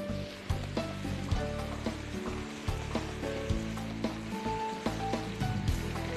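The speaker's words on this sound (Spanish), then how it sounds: "lo vamos a poner sobre las chuletas con cebolla que acaban de estar listas" Pork chops with onion sizzling loudly in a pan as a blended tamarind sauce is poured over them, with a dense close crackle and hiss, bursts of spattering and a few clinks, without speech.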